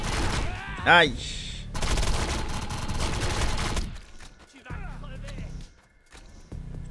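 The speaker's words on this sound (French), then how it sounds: "on va aller prendre la petite pistolet mitrailleur pour pouvoir terminer avec eux" A submachine gun in the video game Defiance rattles off a quick automatic burst among other combat effects, while a voice cries out briefly.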